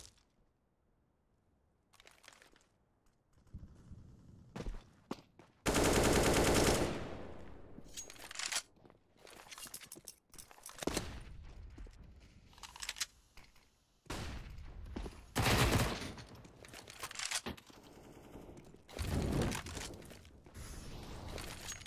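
Competitive CS:GO match gunfire, scattered loud bursts of automatic rifle fire broken by quieter gaps, with separate volleys spread throughout.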